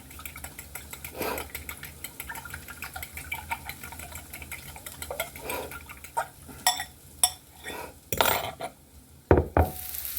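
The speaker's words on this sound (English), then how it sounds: "Eggs into a bowl. And we're going to go ahead and start whisking." Five eggs are whisked in a bowl, starting with soft scattered clinks and building into quicker, louder metallic taps and scrapes against the bowl's sides.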